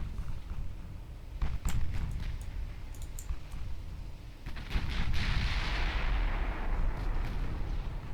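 8-inch naval guns firing in the video game Ultimate Admiral Dreadnoughts: heavy booming reports and sharp cracks over a dense rumbling battle din, swelling into a long roaring wash.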